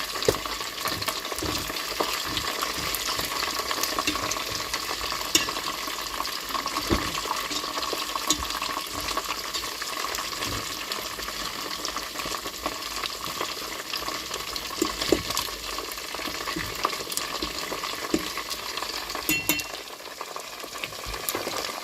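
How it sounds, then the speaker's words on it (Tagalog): Chicken pieces frying in hot oil, a steady dense sizzle with scattered sharp pops and crackles throughout, close and continuous with no speech. "Nagpuputukan na ang ating niluluto."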